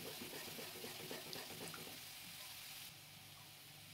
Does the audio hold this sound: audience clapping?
no